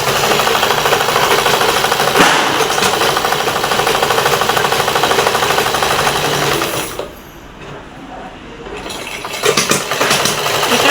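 An electric sewing machine stitches a cloth bag in a home tailoring setting, a loud, fast, steady mechanical whir that pauses briefly and then runs again.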